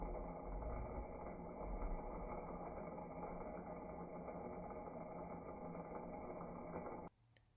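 A small direct current motor spins a rod coated in honey, giving a steady, continuous mechanical whir at even loudness that cuts off abruptly near the end.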